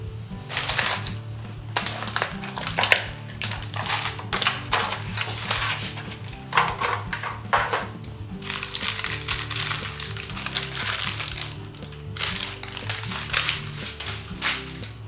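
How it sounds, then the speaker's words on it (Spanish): A knife cuts fish-free dough into sticks on a kitchen surface, giving a string of crisp tapping chops and slicing scrapes in irregular bursts, fairly close and moderately quiet, with no talking. "Sacamos la masa del molde y cortamos."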